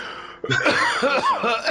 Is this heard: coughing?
yes